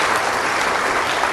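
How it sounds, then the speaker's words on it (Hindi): An audience at a Buddhist vihara event applauds, a dense, steady wash of clapping from many hands that stays even throughout the brief moment. "तालियां बजा सकते हैं।"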